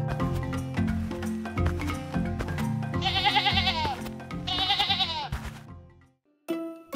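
Cartoon sheep bleat on a farm, several wavering cries rising over a busy musical backdrop. The calls come in two long bursts before the sound drops away and briefly returns.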